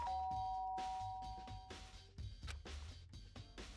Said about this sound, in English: I pushed the doorbell.